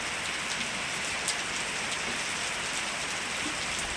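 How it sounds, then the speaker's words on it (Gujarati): Steady rain drums in a dense, even hiss, with a few brighter drops standing out and no voices. "કેટલો સરસ વરસાદ વરસી રહ્યો છે."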